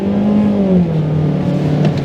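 A Mazda 3 accelerates hard in first gear, its engine note climbing and then settling into a loud, steady drone, close and clear with no talk.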